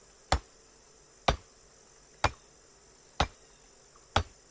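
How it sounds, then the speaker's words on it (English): Iron ore hammered in a video game: five sharp, evenly spaced strikes about a second apart, each a crisp click-like hit over quiet ambient hum. "Now I hammer them up into little iron ore"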